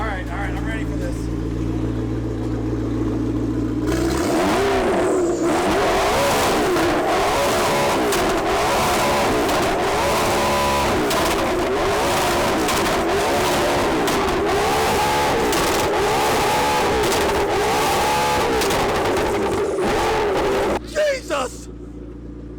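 A flame-throwing McLaren supercar's engine revs hard and very loud at close range, a sustained roaring blare with rising and falling pitch and crackling pops, voices audible under the din, ending in a sharp burst before it cuts off.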